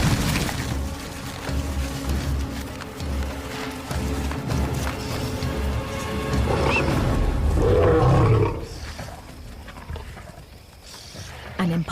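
Lionesses on the hunt roar in low, rumbling bursts that swell and grow louder toward the middle, then fade, heard over a continuous bed of narration-like voice and outdoor noise.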